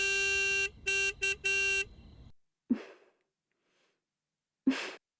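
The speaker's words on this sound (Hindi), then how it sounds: "कोई बाहर हॉर्न बजा रहा है" A car horn honks in several bursts, one long blast, two short toots and another long one, followed by two quick breathy sounds.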